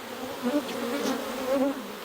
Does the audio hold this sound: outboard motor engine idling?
no